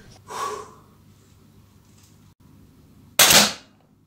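Two sharp pellet shots from a Zoraki HP Ultra air pistol, the first moderately loud and the second, about three seconds later, much louder and closer, with quiet room noise between.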